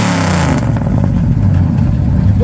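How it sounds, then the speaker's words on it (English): A car engine revs loudly and close, a sharp throttle blip surging then settling into a rough, throbbing idle rumble. "When are you going to rev it up?"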